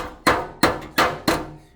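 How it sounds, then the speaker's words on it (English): Four sharp metallic hammer blows, evenly spaced about a third of a second apart, bending lean-to metal flashing straight back; each strike rings briefly and decays, close and loud with no talk. "take the hammer, bend it so it's straight back."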